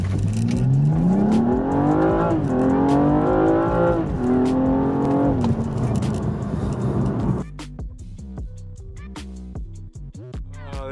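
A stock BMW M235i launches hard from a standstill, its engine revving loud and close as it climbs through several gear changes, then the roar cuts off and settles to a lower idle-like rumble with faint clicks.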